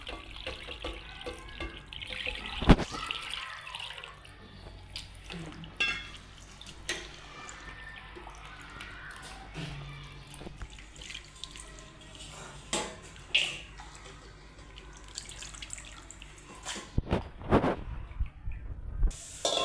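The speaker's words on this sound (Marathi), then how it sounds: "एका पाण्याने अजून एकदा धुवून घ्यायचे आपल्याला स्वच्छ" Running water splashes and gurgles while mutton is rinsed by hand, with intermittent clatters and sloshes, close up and moderately loud.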